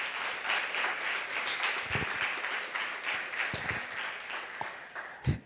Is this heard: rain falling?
no